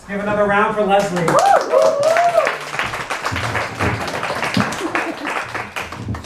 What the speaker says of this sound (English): Let's give another round for Leslie.